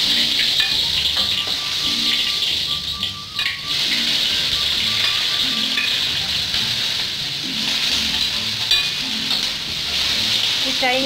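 Garlic fries in hot oil in a pan with a loud, steady sizzle and crackle that dips briefly partway through, close up under an occasional voice in the background.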